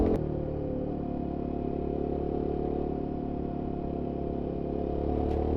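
A Royal Enfield Himalayan 450 motorcycle cruises along a road, its engine holding a steady, even drone with wind rush around it and no speech.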